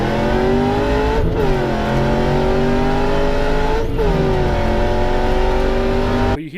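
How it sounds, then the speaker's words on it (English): Camaro with an LSA supercharged engine and Griptech pulley on a track, droning loudly and steadily, with the revs dropping and bogging down on the 3-to-4 upshift at about 1.3 and 3.9 seconds, then cutting off abruptly. "when I do that 3 to 4 shift, you hear the RPM kind of bog down"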